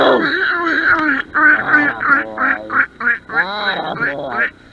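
A person loudly imitates a duck, letting out a rapid series of nasal, raspy quacks in uneven bursts close to the microphone.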